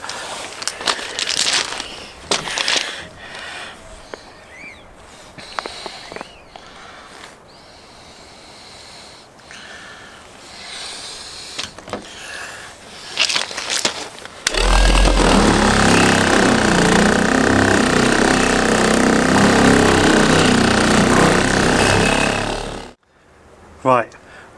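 An electric buffer polishing a car headlight with toothpaste runs as a steady, loud whirring drone for several seconds, then cuts off abruptly; before it, clattering handling noises and a voice speaking.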